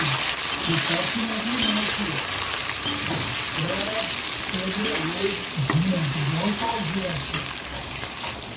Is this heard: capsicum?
yes